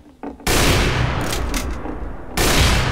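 Sniper rifle shots in Team Fortress 2, a loud burst of gunfire that rings out and decays over a couple of seconds, followed by another sharp shot.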